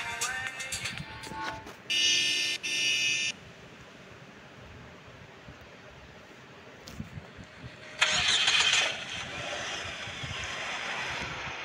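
A car engine in a Roblox game starts with buzzy electronic bursts, then settles into a low steady drive hum, with sharp synthetic tones flaring again near the end; no speech.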